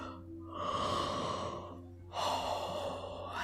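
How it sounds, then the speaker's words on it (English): Someone gives two long, breathy yawns, the first drawn out over more than a second and the second following after a short pause, both close and soft with a hushed, airy quality. "Big yawn."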